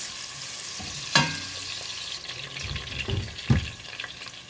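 Shallots fry softly in a pot for a Ghana jollof stew, a steady close sizzle broken by a few sharp clinks and scrapes of stirring, with no voices.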